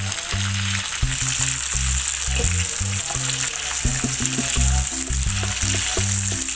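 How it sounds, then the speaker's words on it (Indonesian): Chili, shallots and garlic sizzle in hot oil in a pan, a steady loud crackling fry with occasional stirring clatter and no talk. "Kita goreng dulu cabai, bawang merah dan bawang putihnya"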